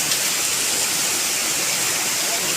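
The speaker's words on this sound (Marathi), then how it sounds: "हा मस्त वॉटरफॉल." A waterfall at night, out on a village crab-catching trip by torchlight, roars as a steady, loud broadband rush of falling water with no break and no voices.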